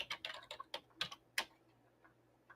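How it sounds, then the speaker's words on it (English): Typing on a computer keyboard during a live online chat, a quick run of crisp, close key clicks that thins out to a few scattered taps, with no talking. "I'm typing up"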